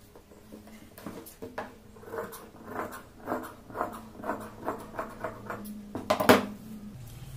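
Scissors cut through an old plain shawl in a series of repeated crisp snips, roughly one every half second, close and fairly quiet, ending in a sharper, louder cut.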